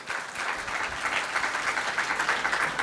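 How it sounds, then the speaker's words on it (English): Steady round of applause from an audience for the panelists at a discussion session, dense even clapping at moderate level for about three seconds. "Let us give good round of applause for all our panelists."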